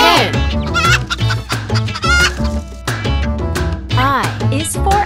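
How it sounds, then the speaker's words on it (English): Hen clucking over a bouncy children's song, short repeated clucks and squawks mixed into loud music throughout. "H is for hen. H is for hen. H, H, hen."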